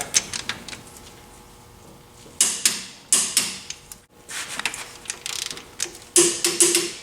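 A ratchet clicks on the cylinder head bolts of a 5.2/5.9 Magnum V8, with the bolts torqued to 110 in a spiral pattern. Several close bursts of rapid mechanical clicking are separated by brief pauses, and nobody talks.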